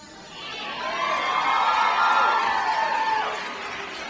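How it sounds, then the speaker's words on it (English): An audience at a motivational talk breaks into cheering and applause, swelling to a loud peak of whoops and shouts before easing off. "I appreciate the applause"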